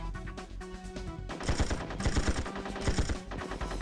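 Rapid automatic gunfire aimed at turrets in the 1999 video game 007: Tomorrow Never Dies, bursts of sharp shots in quick succession with a pause between volleys, loud and close with faint game music underneath.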